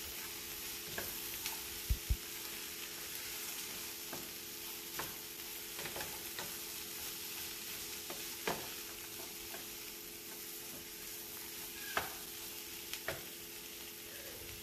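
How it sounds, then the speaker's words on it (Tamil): Ivy gourd sautéing in a pan with turmeric and chili powder, a steady low sizzle and crackle broken by occasional scrapes and taps of a stirring spoon, with no voices. "சேர்த்ததுக்கப்புறமா ஒரு 2 நிமிஷம் மறுபடியும் வதக்குங்க"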